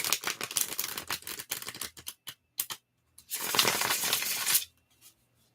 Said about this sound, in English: I will be done shuffling the cards shortly.